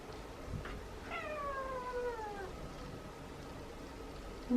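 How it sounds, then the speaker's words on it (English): Several feral cats meow with squeaky, rising-and-falling calls, one clear drawn-out meow standing out over a steady outdoor background while the colony is out eating. "So many squeaky cats"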